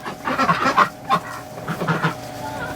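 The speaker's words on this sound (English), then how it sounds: "God, they're gorgeous birds, those Muscovies." Muscovy ducks in a barn give soft, breathy hisses and low honking calls in several close bursts over a faint steady hum, with no talking.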